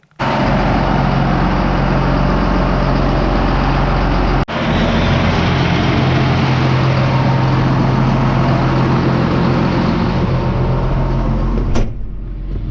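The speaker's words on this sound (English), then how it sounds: "I'm gonna get this tractor out and run it around just to get the oil heating up" A 25-year-old tractor's engine runs steadily, loud and close, with a continuous low rumble, a sharp metallic clunk partway through and another near the end.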